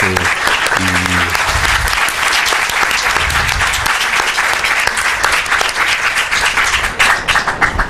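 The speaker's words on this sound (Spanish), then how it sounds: "quisiera pedir para él un aplauso" An audience at a university law conference on gender and sexuality breaks into loud, sustained applause for an honoured guest, dense clapping filling the room with a brief low tone near the start.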